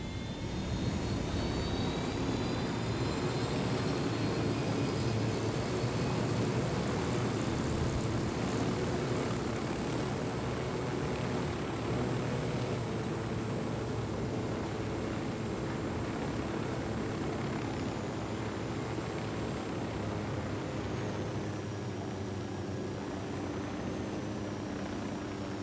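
Steady, loud aircraft engine drone from a plane piloted in Grand Theft Auto, a continuous roar with a high whine, holding almost unchanged throughout and slowly easing off toward the end, with no talk.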